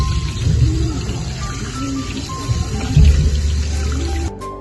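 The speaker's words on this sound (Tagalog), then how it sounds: "kailangan nating hugasan ang ating alamang. Papadalawian natin siya ng tubig hanggang sa maging malinis." Small alamang shrimp are rinsed in a bowl of water while cooking Bicol Express, giving close sloshing, swishing and splashing with light clatter that stops abruptly near the end.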